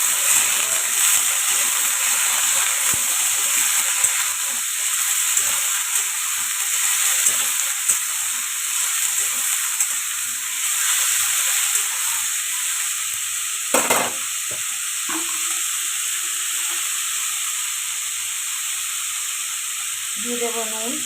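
Washed potatoes frying in a pan make a steady, continuous sizzle with soft stirring and scraping, the hiss holding even throughout, broken briefly by a couple of sharper clatters near the end.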